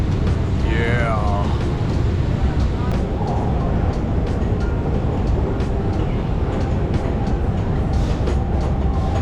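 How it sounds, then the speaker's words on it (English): A Stockholm subway train rolls along with a steady loud rumble and rattle of the carriages, a brief squeal near the start, and people talking over the noise. "Taking the subway is definitely something you guys must do when you guys are in Stockholm"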